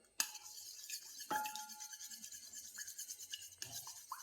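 Spoon stirring an egg and milk mixture in a bowl, a run of quick scraping and light clinking strokes, close and soft, with no talk.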